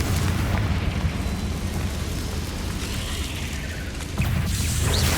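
Confringo spell explosion in the Hogwarts Legacy video game: a loud, sustained fiery rumble and blast, with a fresh burst of impact near the end, no voices.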